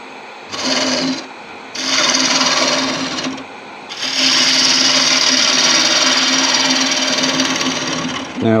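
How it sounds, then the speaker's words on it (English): A small wooden bowl being hollowed on a woodturning lathe: loud scraping, rasping bursts of the gouge on spinning wood, first in short cuts separated by pauses, then one long sustained cut over the motor hum. "Right, so I'll take the helmet back on and we will hollow this."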